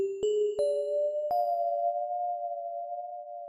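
A clean electronic synth tone steps up in pitch three times with sharp plucked attacks, then sustains, each note ringing out in a long, smooth reverb tail.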